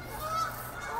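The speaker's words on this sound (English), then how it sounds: "We've got a flock of geese." A flock of geese honks outdoors on a cool, rainy day, a brief burst of nasal calls heard at moderate distance with no talking over them.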